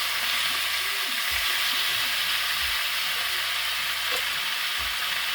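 Steak seared on its side in a very hot pan gives off a loud, steady broadband sizzle that carries throughout with no speech, punctuated by a few low thumps as the meat shifts.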